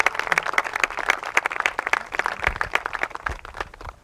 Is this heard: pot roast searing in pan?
no